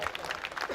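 Dense crowd applause at a mushaira poetry gathering on stage, many hands clapping in a busy, continuous patter, fairly loud and close, with a voice faintly mixed in.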